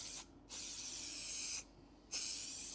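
Spray adhesive hisses from an aerosol can onto 1980s car interior trim in three steady bursts separated by short pauses, close and fairly loud.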